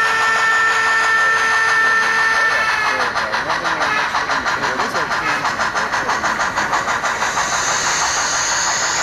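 An engine sound from a model train sound decoder plays through small speakers with a baffle. It starts with a steady tone, then shifts into a rhythmic, pulsing diesel-like chug that continues throughout.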